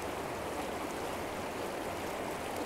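A river rushes steadily with broadband, constant water noise, close and moderately loud, with no pauses throughout.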